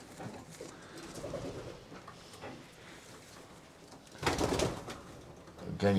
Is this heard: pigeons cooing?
yes